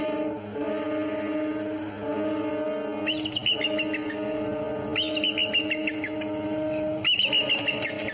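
Bird chirping in repeated bursts of bright high chirps over a steady tonal background drone, moderately loud, with no talk.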